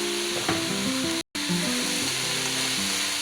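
Steady loud sizzling of chicken pie filling in a pan with scraping stirring sounds and a soft music bed underneath, briefly cutting out for a moment.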